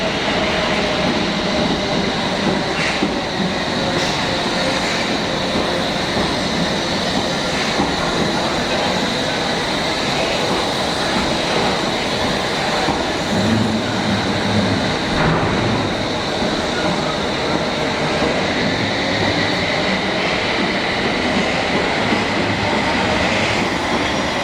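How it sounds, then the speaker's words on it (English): A loud London Underground train rumbles through Moorgate station without stopping, with continuous roaring wheels and faint clatter lasting the whole time, some talk beneath it. "Passing through the other platform without stopping"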